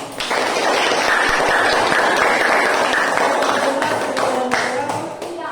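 A classroom audience claps after a student group's presentation in an open coding class, a busy burst of many hands that holds steady and then thins toward the end, with a voice briefly under it.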